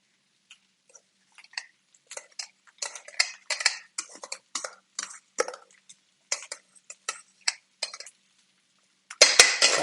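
Metal utensils scrape and clink against a plate while salad with preserved lemon vinaigrette is plated over whipped feta spread, a close, irregular series of taps and scrapes in an otherwise quiet kitchen.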